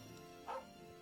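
A dog in Trails of Cold Steel 2 gives a single short, faint bark, alone over a quiet background.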